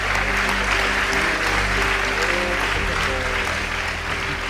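Audience applause during a Portuguese-language church testimony: a dense, loud, sustained wash of many hands clapping, steady from start to finish, with a low hum and faint background voices mixed in.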